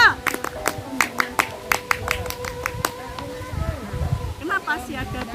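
A group of Indonesian Pramuka scouts at outdoor field practice perform a rhythmic scout clap: a quick patterned series of sharp, distinct claps for about three seconds, followed by voices and crowd murmur.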